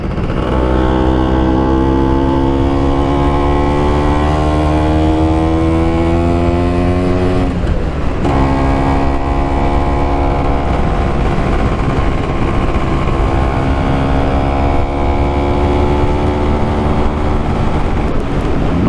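Vespa PX scooter fitted with a Pinasco 251 kit, ridden on open road: loud two-stroke engine climbing through the revs, a brief drop around a gear change, then pulling hard again, close and dominant throughout.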